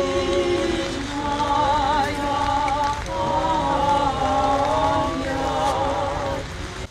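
Heavy rain pours steadily over an outdoor memorial gathering in Kyiv at Babyn Yar, a dense continuous hiss that holds throughout, while a tonal droning sound runs through it with no clear speech.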